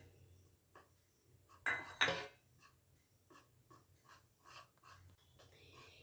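Batter being mixed in a bowl, quiet scraping and tapping strokes at an uneven rhythm with a couple of louder clattering knocks near the middle, no talk.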